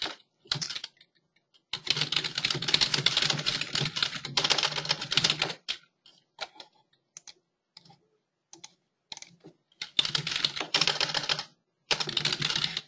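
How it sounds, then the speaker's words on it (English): Rapid bursts of computer keyboard typing, close and crisp, come in several runs of clattering keystrokes separated by short pauses and scattered single clicks, with no voices. "Let me just write to Pablo real quick."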